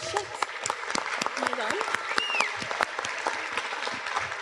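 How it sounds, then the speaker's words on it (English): Steady applause from an audience at a Puerto Rico Comic Con 2016 Q&A panel, with scattered claps and a voice calling out briefly over it. "big round of applause to come into the stage"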